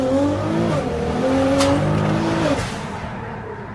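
A Mercedes C63 S launched hard from a standstill without launch control, its engine note climbing through loud rising harmonics as the rear wheels spin, then easing off toward the end.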